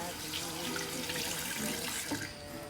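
Hands are rinsed under a running kitchen tap after handling chilies, with water splashing steadily and close for a few seconds.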